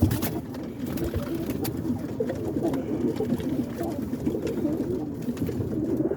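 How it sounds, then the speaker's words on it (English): Tame roller pigeons coo continuously at close range, a low steady rolling murmur of several birds with occasional wing flutters and light clicks, no talking. "They're my birds, They're not wild birds. They're tame birds."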